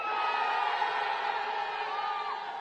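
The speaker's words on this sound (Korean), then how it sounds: "환호성 한번 드릴까요?" A large crowd at a nationwide candlelight protest rally in Korea roars and cheers together, a loud, sustained wash of voices and whoops across the whole moment.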